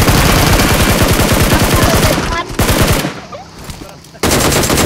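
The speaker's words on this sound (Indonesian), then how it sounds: "Tembak tu banyak tembak tu." Video game gunfire, loud rapid automatic bursts that stop briefly, give way to quieter rattling and scattered sounds, and then resume at full force.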